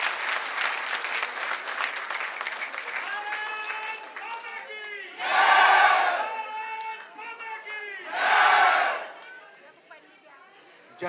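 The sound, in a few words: crowd applauding and cheering to welcome a minister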